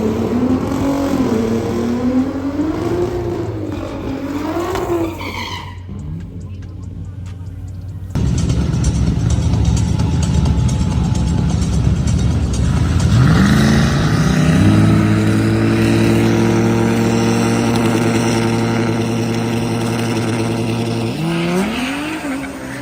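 Turbocharged Nissan Z with upgraded turbos at a drag night, engine held on boost and revving loudly before launching with tire squeal, a sustained roar that climbs through gears, with some voices in the background.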